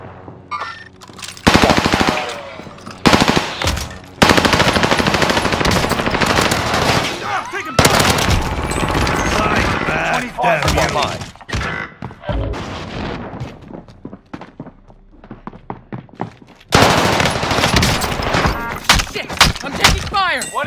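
Automatic weapon fire in a Call of Duty match comes in long, loud, rapid bursts separated by short pauses, with an excited player's voice heard in between.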